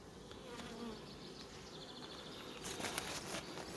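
Honeybees at a plastic beehive hum and buzz steadily, many wings droning close by, with a few faint rustles near the end.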